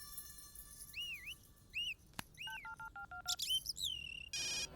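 A mobile phone ringtone in an action film scene plays warbling melodic electronic tones, then a run of keypad-like beeps and a brief burst of static, loud and close with no talking.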